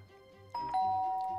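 A two-tone doorbell chime rings out in The Hardy Boys: The Hidden Theft, a PC adventure game; a single ding-dong, clear and close, following a moment of quiet background sound.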